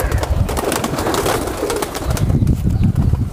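High flyer pigeons cooing close by, repeated soft throaty coos in quick succession with light rustling, clear and alone with no talk.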